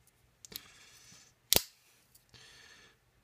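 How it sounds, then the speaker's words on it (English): Snips from the large, strong scissors of a Victorinox Swiss Champ pocket knife: a soft cut, then one sharp loud click of the blades, then another quieter cut, all close up and with no one talking. "the big and very strong Victorinox scissors"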